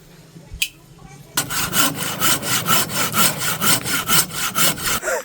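A hand saw cuts through wood at a forest house-building site, making a steady run of about a dozen rhythmic rasping strokes. It is loud and close, with a single knock just before the sawing begins.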